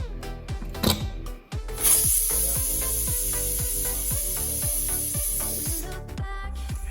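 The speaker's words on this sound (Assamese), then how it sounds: "মই প্ৰেছাৰ কুকাৰৰ ঢাকনখন লগাই এটা হুইচেল দিয়ালৈকে মই বাট চাম" A pressure cooker with chicken inside vents steam: a loud, steady hiss with a shrill high whistle that holds for about four seconds and then cuts off, over a rhythmic pulsing background beat.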